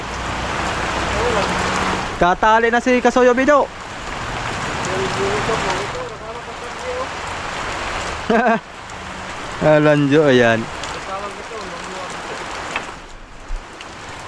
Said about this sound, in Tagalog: lumurok na naman ang ulan